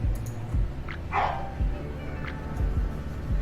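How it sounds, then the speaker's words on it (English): A dog barks briefly in the background of an indoor room, a short muffled yelp at moderate distance. "you can probably hear my dog in the background, Simba."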